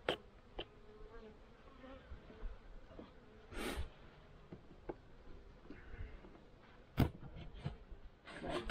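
Bees stir in a winter beehive during a February inspection in Pennsylvania, giving a low, faint buzz with occasional louder passes as single insects fly near, and a few small knocks and clicks.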